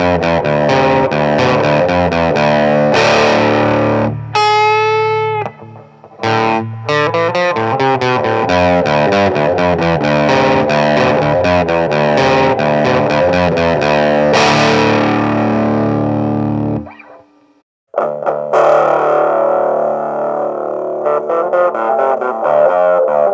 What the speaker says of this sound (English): we're going to turn our overdrive and distortion way up and see